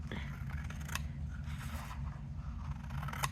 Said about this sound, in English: So I'm gonna take my scissors